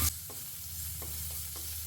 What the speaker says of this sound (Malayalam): അണ്ടിപ്പരിപ്പ് മൂത്ത് തുടങ്ങിയിട്ടുണ്ട് അതിലേക്ക് കുറച്ച് മുന്തിരി ഇടാം